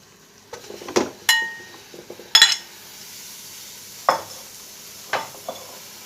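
Pork goes into a hot pan over a gas flame, and each addition brings a burst of sizzling. Metal clanks and scrapes from stirring come between the sizzles, close and fairly loud, with no talking.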